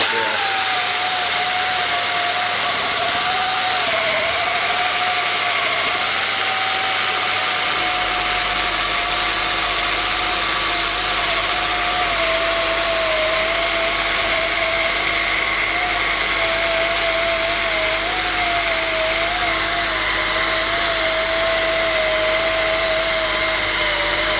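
A 500-grit polisher runs wet on reclaimed marble with a continuous high motor whine and a slightly wavering tone, joined by a low steady hum a few seconds in, loud and close with no talking.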